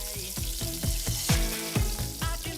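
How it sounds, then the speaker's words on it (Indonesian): Pieces of oxtail fry in hot oil, a steady crackling sizzle broken by repeated sharp bursts of spattering every fraction of a second, close and fairly loud with no talking. "Sebelum dioseng, daging buntutnya kita goreng dulu sebentar di dalam minyak panas."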